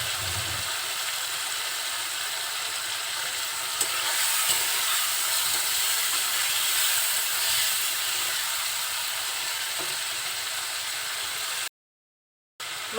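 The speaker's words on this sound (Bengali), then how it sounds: "মাছগুলো এখন আমি মশলার সাথে খুব সুন্দরভাবে কষিয়ে নেব।" Taki fish frying with spices in a pan, giving a steady close sizzle and hiss that continues throughout before cutting out briefly near the end.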